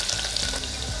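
Chopped garlic cloves sizzling in hot oil for Khandeshi masala khichdi, a brief loud, hissing fry with light stirring noise, no voices.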